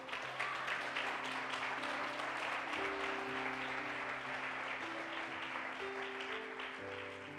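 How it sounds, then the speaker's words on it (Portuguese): A church congregation applauds during a sermon, with sustained, even clapping from a large crowd at a moderate distance, while organ or keyboard chords hold steadily underneath. "Você pode aplaudir a Ele?"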